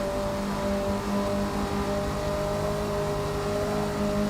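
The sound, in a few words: car engine fluttering, from video game Forza Motorsport 6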